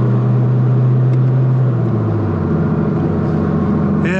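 A Mitsubishi Lancer Evo 7 being driven after winter gives a loud, close engine drone with a strong low tone that drops in pitch partway through, then a steady rumble with a brief higher whine at the end.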